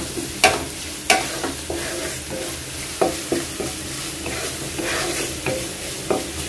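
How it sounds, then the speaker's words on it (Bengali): Onion with a bay leaf frying in oil in a pan, a steady sizzle broken by a few sharp spoon taps and scrapes against the pan every second or so, close and fairly loud. "পেঁয়াজটা বেশি ভাজবো না, এই পেঁয়াজ ভাজতে অনেক সময় লাগে, আধা ভেজে নেব আর কি"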